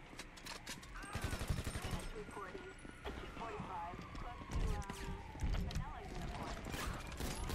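Police gunfire in GTA V on PC with modded Crown Vic police interceptors, rapid bursts of shots and clatter mixed with engine noise, while someone talks over it.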